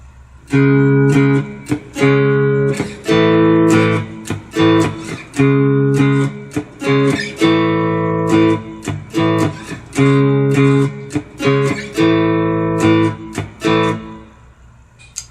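Bright, twangy strummed chords on a four-string cigar box guitar, played in a steady rhythm with pauses between chord changes, close and fairly loud.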